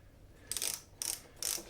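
Short bursts of a power driver run screws in to lock a floating shelf made from scrap redwood or pine: three brief, fairly close whirring spurts separated by short pauses, with no talking.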